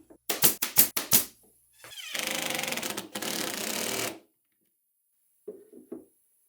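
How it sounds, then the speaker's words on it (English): A drill drives screws into a wooden band saw trunnion: a quick run of sharp rattling bursts, then two longer steady whirring runs, close and fairly loud, followed by silence and a faint brief noise. "Then I can pin those together and drive in screws from the other side."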